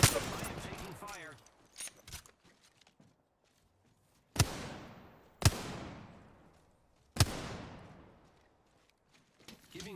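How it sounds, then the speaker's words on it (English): Shots ring out in a solo run of a shooter video game, an early flurry followed by three sharp, separated blasts with long decaying echoes, set against quieter stretches. "I am taking fire."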